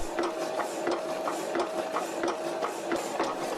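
A vintage hydraulic hacksaw drives its blade through a metal workpiece clamped in a vise, giving a steady, rhythmic rasp with a cutting stroke roughly every third of a second and a constant mechanical hum beneath.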